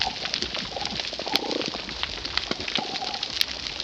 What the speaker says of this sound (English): Okay, this is some reef sounds.